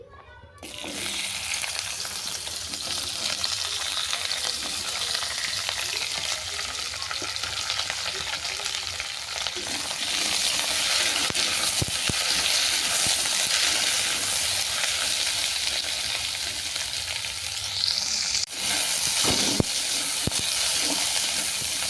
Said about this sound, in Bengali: তেল গরম হয়ে যাওয়ার পর চিচিঙ্গাটাকে তুলে দিচ্ছি